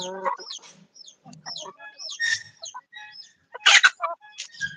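Farm chickens cluck and squawk close by in scattered, overlapping bursts, some short and clipped, a few louder, shriller cries standing out near the end.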